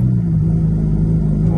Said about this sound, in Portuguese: Mas vamos ligar o carro aqui então.